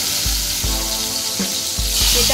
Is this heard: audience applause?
no